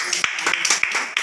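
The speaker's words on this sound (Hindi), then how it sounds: "गुलाब साहब के लिए जोरदार ताली" Applause at a Republic Day gathering: a brief burst of steady clapping from a group, fairly close, with a voice over it.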